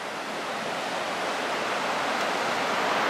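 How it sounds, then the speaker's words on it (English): The river Fella runs shallow past the town near Chiusaforte in the Italian Alps, a continuous broad rushing of flowing water that swells slightly louder toward the end, with no speech. "this is the river Fella"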